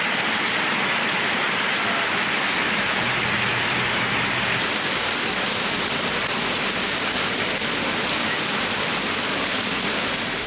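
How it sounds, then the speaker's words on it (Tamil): Heavy rain pours down over Tirumangalam and nearby areas in Madurai district, Tamil Nadu. It is a dense, steady, loud hiss of water that holds without break throughout. "மதுரை மாவட்டம் திருமங்கலம் மற்றும் அதன் சுற்றுவட்டார பகுதிகளில் பலத்த மழை கொட்டியது"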